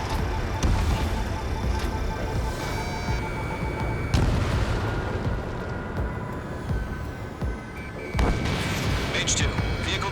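Missile explosions and heavy combat blasts in the jet-combat game Ace Combat 7, a dense continuous roar of booms and rumbling impacts with sharper bursts punching through, loud and layered under radio-style voice chatter.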